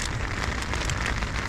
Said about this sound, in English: it's not easy when it's raining hard